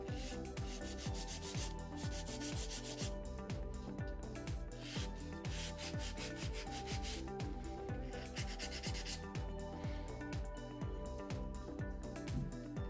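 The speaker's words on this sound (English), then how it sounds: "So now all that's left to do is file this nail into shape." A nail file rasps steadily back and forth across a gel nail, shaping it in a quick, even rhythm of close, dry scratching strokes with no talking.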